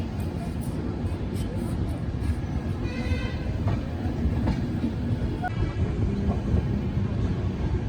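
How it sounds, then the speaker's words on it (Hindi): The Kathgodam Dehradun Express pulls out of Rampur Junction, a continuous loud rumble of rolling wagons with faint clickety-clack over rail joints throughout. "रामपुर जंक्शन से डिपार्चर हो गया है काठगोदाम देहरादून एक्सप्रेस का"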